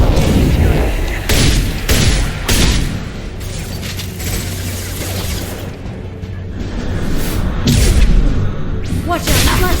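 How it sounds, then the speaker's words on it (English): A flashbang grenade goes off during a firefight in Mass Effect 2. Several loud booms and whooshing bursts sound amid dense combat noise and gunfire, close and heavy across the whole stretch. "Watch out! Flashbang!"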